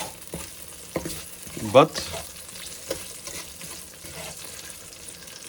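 Guanciale crisping in a pan gives a low frying sizzle beneath scattered stirring clatter and a sharp scrape, while a voice speaks briefly.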